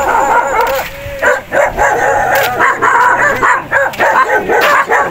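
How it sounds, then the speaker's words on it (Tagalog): Several dogs bark and yip in quick overlapping bursts at a house on a delivery stop, close and loud against outdoor background noise. "Maraming aso mga karusi."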